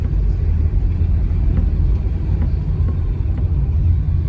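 A car drives through the town of Mandeville in Manchester, Jamaica, giving a steady, loud low engine and road rumble throughout with no talk over it.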